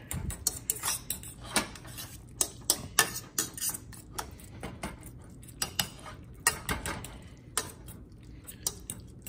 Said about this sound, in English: And mix that up to where it's got a little bit of liquid in there.